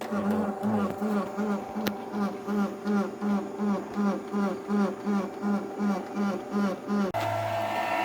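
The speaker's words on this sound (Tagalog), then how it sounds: "ayan, mag-print na siya" A Canon inkjet printer with a streaky-printing fault runs with a steady, rhythmic mechanical whir as the print head shuttles back and forth, then stops with a soft clunk.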